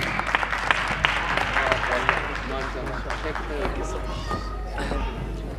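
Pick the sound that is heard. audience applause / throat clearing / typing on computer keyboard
audience applause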